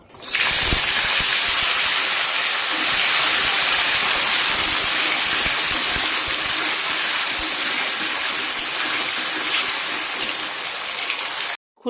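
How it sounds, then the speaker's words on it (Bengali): Potatoes fry in hot oil while chana masala is being cooked, giving a loud, steady, dense sizzle that runs unbroken for the whole stretch with no voices over it. "এখানে দেখুন তেল গরম হয়ে গেছে, আর আমরা প্রথমে এতে আলুটাকে ভেজে তুলে নেব।"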